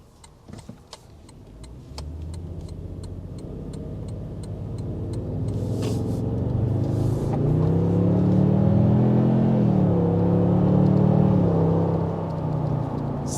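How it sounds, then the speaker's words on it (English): A 2022 Toyota Tundra V8 idles with faint clicks, then revs as the gas pedal is pressed, its engine note climbing and holding a smooth, fairly quiet growl that rises and falls close by. "it sounds like a V8, but a quiet one"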